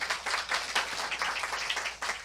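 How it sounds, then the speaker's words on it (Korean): A church congregation claps together in worship, producing a dense, sustained burst of applause from many hands, fairly close and steady throughout. "우리 주님께 박수로 경배하십시다"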